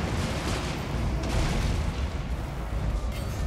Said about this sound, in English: but all that cannon was pretty brutal